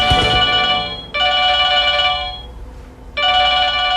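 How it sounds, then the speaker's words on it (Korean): A telephone ringtone rings loudly in two bursts of about a second each, separated by a short gap, with another burst starting at the end and no talking over it. "전화다."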